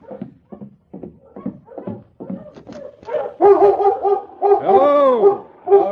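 A sled dog team in a radio drama barks, yips and whimpers nearby, with short rapid yelps building into overlapping whines and a rising howl-like cry, no voices over it.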